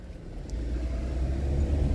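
A car rides through the residential neighborhood of East Legon in Ghana, heard from inside the cabin as a steady, close, low road and engine rumble that holds level throughout, with no talking.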